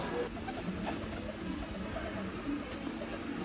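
Soft pigeon coos repeat now and then over a steady background hum, fairly close but not loud.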